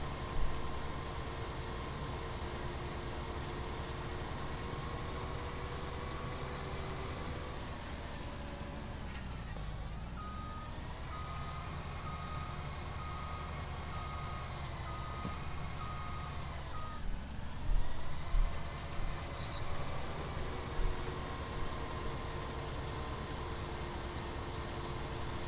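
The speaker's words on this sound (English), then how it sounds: "Just trying out the new FENDT harvester, the 6275." Fendt 6275 harvester running in Farming Simulator 19, a steady mechanical drone with engine hum and whine that sweeps down and back up twice, with faint clatter near the end.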